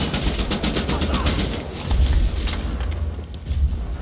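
Gunfire in the game Wolfenstein The New Order: rapid bursts of shots followed by a few heavier booms, loud and dense, with a voice talking faintly underneath.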